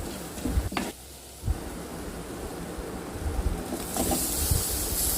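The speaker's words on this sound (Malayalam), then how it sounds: "ഇതിലോട്ട് ആവശ്യമായ ഒരു നാല് ടേബിൾ സ്പൂൺ മുളക് പൊടി ഒരു കാൽ സ്പൂൺ മഞ്ഞൾപ്പൊടി ഇട്ട് നല്ലതുപോലെ വഴറ്റുക" Chili powder and turmeric sautéed in hot oil for a lime pickle, with a continuous close hiss and sizzle, a couple of brief utensil clinks early on, and the frying growing brighter toward the end.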